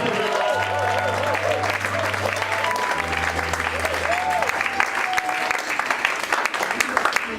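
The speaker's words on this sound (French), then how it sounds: "Est-ce qu'on peut acclamer le Seigneur pour cette étude de joie?" A church congregation breaks into loud, sustained applause and cheering to acclaim the Lord during a French-language sermon, with the clapping filling the room throughout and voices ringing out over it.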